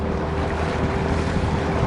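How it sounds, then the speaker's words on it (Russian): Strong northerly wind blows across open water on a fishing trip from a boat, a constant roaring buffet over the microphone with lapping waves beneath, loud and unbroken. "Ветер кошмар."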